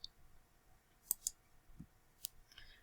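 Faint, sharp computer mouse clicks during spreadsheet setup for an accounting add-on, a close double click followed by a few scattered single clicks over a quiet background.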